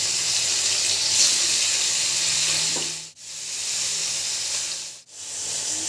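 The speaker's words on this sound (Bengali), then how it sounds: "তো মাছগুলো এখন ভেজে নেব।" Fish fries in hot oil in a kadai, giving a loud, continuous close hiss and sizzle that briefly cuts out twice.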